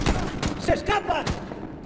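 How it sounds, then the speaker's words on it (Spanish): Sharp bursts of gunfire crack out every half second or so during a firefight in the 2010 Medal of Honor video game, with brief voices calling out in between. "Buen disparo, Adams"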